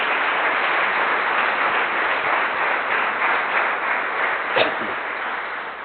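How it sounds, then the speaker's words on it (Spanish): A church congregation claps for the Lord, a steady muffled wash of many hands through the whole span, with a brief louder sound near the end. "Dele un aplauso al Señor."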